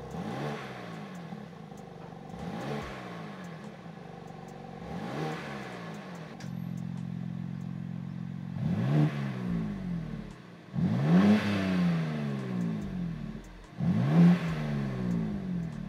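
A BMW G87 M2 on its stock exhaust, before a Milltek upgrade, revs repeatedly from idle: six or so sharp, rising blips with a steady idle hum between them, close and loud, with no voices.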